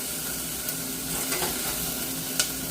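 Onions and green chillies sautéing in a pan, a continuous close sizzle with occasional light knocks as a spoon stirs them.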